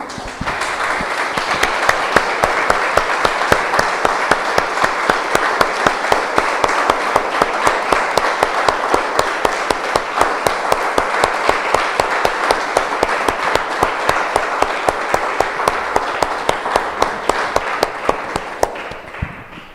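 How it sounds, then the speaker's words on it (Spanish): A church congregation applauds during a worship service, dense steady clapping sustained loudly for nearly twenty seconds without pause. "Damos un aplauso, hermanos, al Señor."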